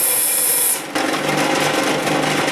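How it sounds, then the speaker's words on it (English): A power drill bores holes in a knife blade forged from a ball bearing, a steady high whine that cuts out, then resumes as a grinding, rasping drone. "Let's go and drill the holes."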